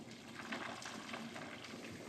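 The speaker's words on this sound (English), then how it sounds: "The act of boiling and evaporation here is getting more and more violent as we reduce the water." Water boiling hard and evaporating in a pan as it reduces with carrots and butter, a dense steady bubbling hiss that fills the short moment without any voices.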